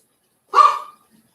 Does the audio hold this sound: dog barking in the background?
yes